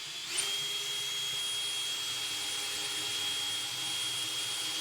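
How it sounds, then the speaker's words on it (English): A drill boring a hole in stainless steel, a steady loud high-pitched whine with a constant tone that holds evenly from start to finish. "He's going to drill the hole to"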